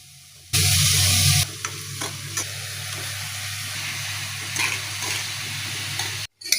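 Ginger garlic paste lands in hot oil in a pan for chicken biryani, a loud burst of sizzling at first that settles into a steady frying hiss with occasional stirring scrapes.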